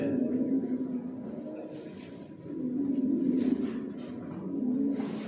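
Pigeons in a loft coo in a continuous layered chorus, deep rolling calls swelling and overlapping, with a voice faintly talking underneath.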